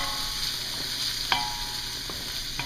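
Onions and garlic cook down in a pan with a steady, close sizzle, broken by a few light utensil clicks as they are stirred, no voices over it.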